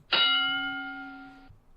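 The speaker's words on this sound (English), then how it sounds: "Here's the bell for round number 2." A single boxing round bell from the Title Bout II PC video game rings once, a sharp metallic clang that sustains clearly for over a second before cutting off.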